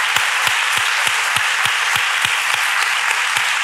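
Loud, dense applause from a crowd at a Holy Week brotherhood event in Málaga, with a strong nearby clapper striking a steady, rhythmic beat over the continuous wash of clapping.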